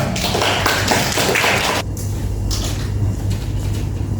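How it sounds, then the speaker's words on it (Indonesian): A classroom of students claps for a classmate during a math lesson on derivatives; a dense burst of applause lasts nearly two seconds, then cuts off abruptly into quiet room noise. "Oke, tepuk tangan untuk Powell."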